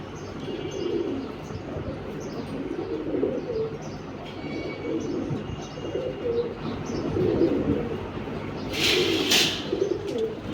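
Pigeons cooing in a loft at a family home, several soft rolling coos repeating steadily close by, with brief chirps and a short bright flutter near the end; no talking.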